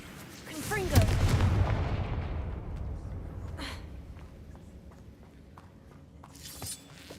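Booming fire-spell blasts from the Confringo curse in the Hogwarts Legacy video game, a loud burst near the one-second mark fading into rumbling crackle, with a smaller blast later, under game sound effects.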